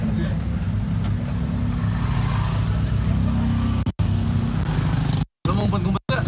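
Jammed city traffic heard from inside an angkot minibus on the way to Bandung, a dense constant rumble of engines and motorbikes close around, with people talking over it and a few brief cutouts near the end.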